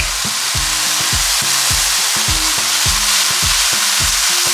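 Diced onion and two garlic cloves fry in a pan, producing a loud continuous hiss of hot oil close up, with a repeating thumping pattern of stirring underneath and no voices.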